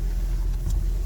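A Honda Civic rolls slowly to a new parking position, its engine giving a steady low rumble close by with no voices.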